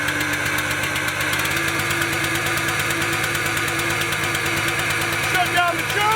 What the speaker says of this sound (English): Here's how you start the motor.